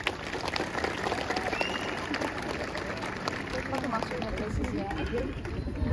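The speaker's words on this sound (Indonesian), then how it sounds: "Tepuk tangan adik-adik." Students clap together at a Monday school flag ceremony at SMK Negeri 1 Mempawah, a steady, dense wash of applause lasting throughout with crowd murmur mixed in.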